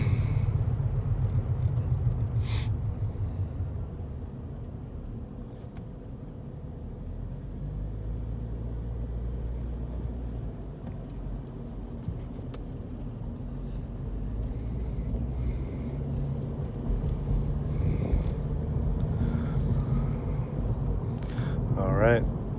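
A 2006 Honda Accord LX on a city and freeway test drive gives a steady low road and engine rumble with wind noise, continuous and fairly loud throughout, with a brief brake or tick sound near the start.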